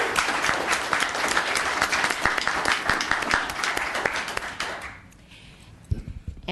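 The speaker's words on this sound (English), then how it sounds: "So let's give Lucas a round of applause." An audience at a town council meeting applauds Lucas, with a brisk round of clapping and distinct individual claps that fades out toward the end, leaving a few scattered taps and shuffles.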